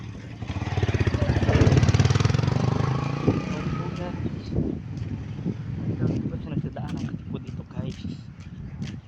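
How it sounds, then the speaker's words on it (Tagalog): Motorcycle engines rumble close by and fade as they pass along a road, followed by lighter traffic noise and clatter in the background. "Motor po guys na nagdadaanan po guys."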